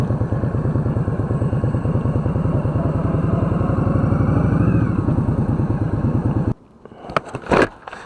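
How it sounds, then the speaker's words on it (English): A 2018 Indian Scout Bobber motorcycle rumbles steadily and close up while riding, its engine pulsing evenly for over six seconds before cutting to quieter wind buffeting and rustle. "Quick little demo ride on the 2018 Indian Scout Bobber."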